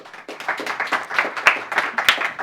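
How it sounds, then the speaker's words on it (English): An audience at a conference on UK investment in Africa applauds, a dense, lively clatter of clapping hands close by with a few sharper claps punctuating it. "Let's give him a round of applause"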